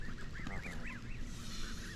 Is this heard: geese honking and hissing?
yes